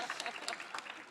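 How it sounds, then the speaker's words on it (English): Audience applause at an evening Gold Industry Group diversity event in Perth: a brief burst of dense, even clapping from a crowd that fills the whole moment, with a voice faintly mixed in. "So can we please give them a round of applause?"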